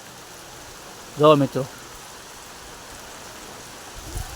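Heavy rain keeps up a steady, even hiss throughout, with someone speaking a short phrase over it partway through.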